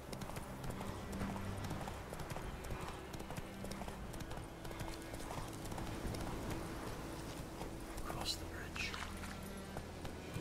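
Horse hooves clip-clop steadily through a ride in The Witcher 3, a continuous rhythmic trot under low game ambience, with quiet voices murmuring over it.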